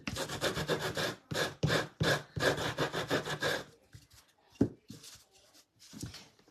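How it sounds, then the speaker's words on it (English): Wooden pumpkin craft edges sanded with a handheld gator sanding tool, giving loud rhythmic rasping strokes for several seconds, then a pause and a few fainter scrapes. "I'm going to use my little gator tool. We're going to sand the edges."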